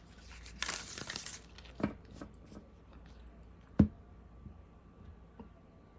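Tarot and oracle cards shuffled by hand in a quiet room, giving a brief papery riffle burst followed by a few soft, sparse taps and slaps of cards.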